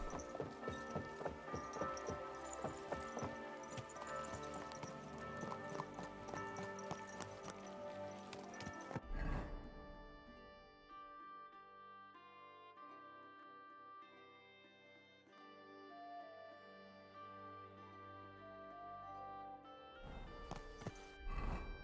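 Horse hooves clip-clop at a steady walking rhythm in Kingdom Come Deliverance 2, heard under dense game music and ambience, fairly faint, with the rider's footfalls continuing through most of the stretch.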